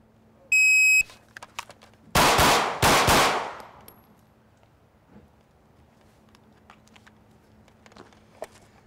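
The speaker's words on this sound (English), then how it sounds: "I'm going to start off by firing double taps" An electronic shot-timer beep, then two loud, close double-tap gunshot pairs fired at two targets in quick succession, followed by quiet.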